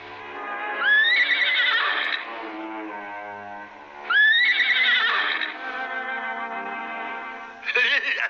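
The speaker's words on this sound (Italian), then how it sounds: "un selvaggio nitrito squarcia l'aria." A cartoon unicorn neighs wildly in two long shrill whinnies, loud and close, each trailing into fluttering snorts, with a third sharp cry starting at the end.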